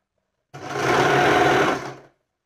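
A sewing machine stitches together the pieces of a tee shirt in one steady, close run of about a second and a half, loud and continuous with a fast mechanical whir and no talking.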